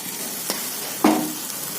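A quick scrape, then a brief burst of sizzling as a spice mix of coconut, cumin, turmeric and chili powder is tipped into a hot pan of beans, settling back into a quiet frying hiss.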